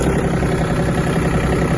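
Steady, loud diesel rumble of a Yanmar AF-226 Japanese mini tractor engine running as the tractor pulls away, a continuous close hum with no talk.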